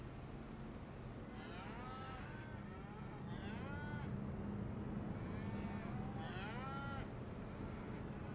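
Cattle moo several times in Farming Simulator 25 on an Irish farm map, drawn-out calls rising and falling over a steady low engine-like drone, with no talk.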